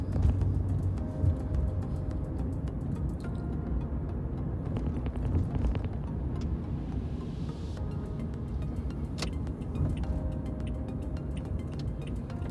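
A dollar van moving along Utica Avenue in Brooklyn, with a low, steady road rumble and engine drone from inside the cab and faint ticking, carrying on without any voices.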